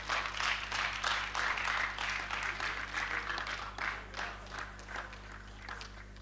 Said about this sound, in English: I don't know why you are clapping.